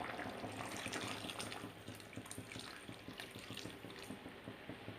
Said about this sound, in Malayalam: ഒരു കപ്പ് തേങ്ങാപ്പാൽ ചേർത്തിട്ടുണ്ട്.